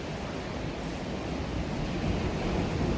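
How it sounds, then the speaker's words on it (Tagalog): Strong ocean waves at a beach, heard as a steady loud broadband wash of surf with wind noise on the microphone and no voices. "Oh, lakas ng alon."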